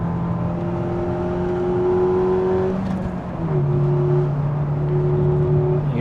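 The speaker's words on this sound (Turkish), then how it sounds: "Egzoz sesini içeride duymak da eğlenceli." Steady engine drone with a low exhaust rumble heard from inside a 200 hp Peugeot RCZ with a BMW engine, pitch shifting briefly as the revs change, continuous and fairly loud.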